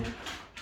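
A dog gives a few short whimpering whines indoors, three soft rising cries in quick succession with no talk over them.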